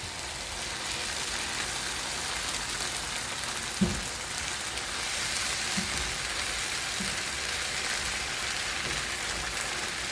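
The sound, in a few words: vegetables being sautéed in a pan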